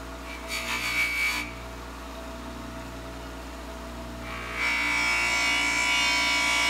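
Hand polishing of a nickel-plated lantern fount, brisk rubbing strokes of cloth on metal in two bursts, a short one early and a longer steady one at the end, over a faint background hum.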